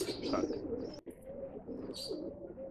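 Pigeons in a breeding loft give soft, throaty coos and a few short chirps, close by and fairly quiet, with no talking.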